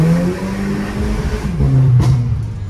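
A Volkswagen Jetta engine revs hard during a burnout, loud and close, holding a strained pitch that rises and falls with a brief sharp burst near the end.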